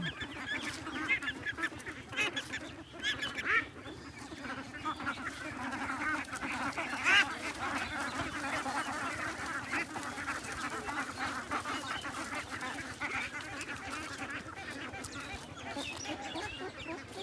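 A flock of ducks, some sick and dying, honk and quack close by in a continuous noisy chorus with scattered louder calls and no talk.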